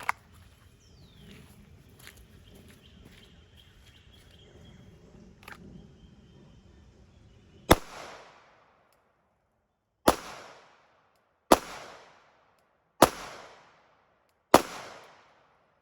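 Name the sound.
Shadow Systems MR920 pistol firing 124 hollow points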